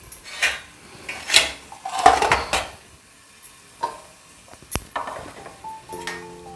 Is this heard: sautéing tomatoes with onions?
yes